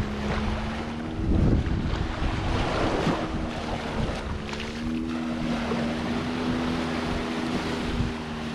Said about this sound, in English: let you just take in the waves and scenery.